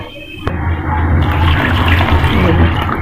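Water pours steadily into a cooking pot of tamarind for tamarind and apricot chutney, a loud, continuous gushing splash that starts abruptly after a short click and runs without a break.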